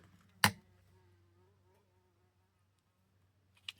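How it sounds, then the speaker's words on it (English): Bees buzz indoors around a collage and junk-journal craft table: a faint wavering drone with one sharp, loud close pass early on and a brief buzz again at the very end. "These bees are seriously going to be the death of me today."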